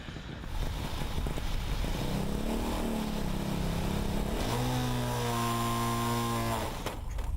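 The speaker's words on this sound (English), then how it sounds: "Right, engine's running, so fingers crossed." A Formula SAE student race car engine runs at an acceleration event, holding a loud, steady drone that rises in pitch and then steps up into a higher sustained rev before dropping off, heard close with no talk.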